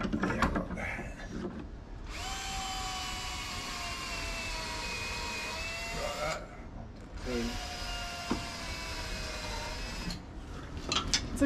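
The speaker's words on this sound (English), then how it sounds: "I'll drill and screw it with the wood screws for the rest of that" A power drill whines in two long bursts of several seconds each, driving wood screws for a sailboat windvane trim tab, close by, with brief pauses and small knocks between them.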